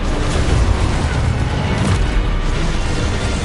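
A Confringo fire spell explodes in the Hogwarts Legacy video game as a loud, dense, continuous blast roar that fills the whole span with rumbling, crackling noise.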